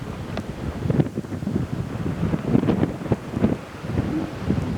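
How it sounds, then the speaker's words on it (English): Steady wind buffeting the microphone at Pierre Grey's Lakes near Grande Cache, a continuous low roar with gusty surges, loud and close, with no voices. "Windy."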